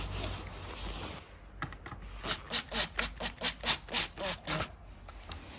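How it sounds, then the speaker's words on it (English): A screw is hand-driven into an existing hole to fix a wooden sash cavity closing wedge on a casement window. It makes a run of close, rhythmic creaking turns and rubs, preceded by a few faint scrapes. "So I'll affix it first with the top screw into a hole that's already there"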